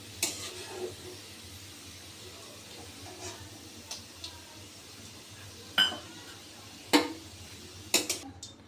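Onions fry into beresta in hot oil in a home kitchen, a soft steady sizzle under scattered clinks and scrapes of a spoon against the pan as the pieces are lifted out. Knocks grow louder toward the end.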